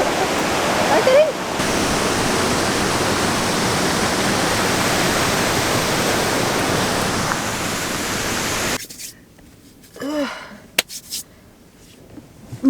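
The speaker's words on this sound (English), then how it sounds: "That's a nice little beautiful waterfall at the rest area." A small waterfall at a roadside rest area roars as a steady, close rush of water for about nine seconds, then cuts off to a quiet interior where a voice speaks briefly.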